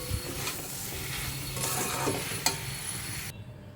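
Curry with poppy seed paste is stirred and sautéed in a pan, giving a steady close sizzle with scraping stir strokes throughout, and no one speaks.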